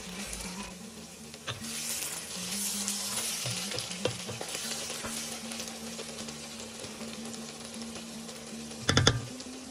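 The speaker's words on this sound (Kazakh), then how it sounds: "Сәбіз жұмсарып дайын болғанша 10-15 минуттай қуырамыз." Carrots sizzle and fry in hot oil in a pot for Uzbek plov, a steady crackling hiss with occasional stirring clicks and a louder clatter near the end.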